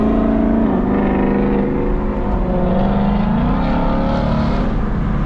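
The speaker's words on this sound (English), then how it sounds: "That Coyote engine sound good, boy." A Ford Coyote V8 pulls steadily while driving on a wet day, its engine and exhaust droning loud and continuous with a rising tone partway through, no talk over it.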